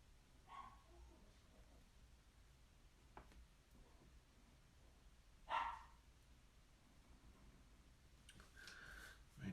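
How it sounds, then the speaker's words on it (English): A nervous dog barks downstairs, giving a few faint, distant, isolated barks over a quiet background hum, with no talking. "My dog is barking because she's downstairs and she's nervous to go up the stairs."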